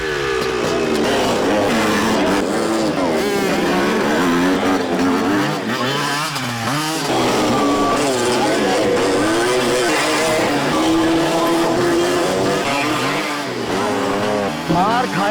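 Motorcycles at a biker stunt school, engines revving and rising and falling in pitch continuously and loudly, with voices talking over the engine noise throughout.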